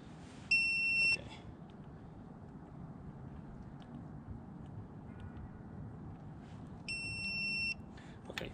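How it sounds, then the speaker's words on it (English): A digital torque wrench gives two bursts of high electronic beeping, each lasting under a second, separated by several seconds of low rumbling background noise. "The beeping doesn't matter."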